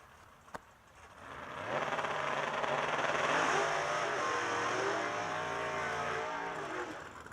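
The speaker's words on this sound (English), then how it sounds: "The 2013 Camaro, right-hand side of the racetrack, getting backed up here, is Joe Travato." A 2013 Camaro drag race car backs up on the right-hand side of the strip at a drag racing event. Its engine swells from a quiet idle into a loud, sustained drone with a wavering pitch before easing off at the end.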